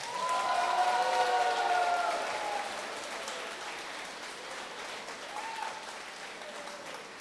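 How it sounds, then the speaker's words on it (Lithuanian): A concert audience applauds a romance-song ensemble at its 25th anniversary concert, a full round of clapping with some faint cheering that starts loud and then tapers gradually. "O dabar visam dvyliktukui bendri aplodismentai."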